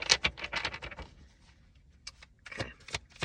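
Tarot cards being shuffled by hand, giving bursts of papery riffling and scratchy flicks close up, with a quiet pause in the middle before more quick card slaps.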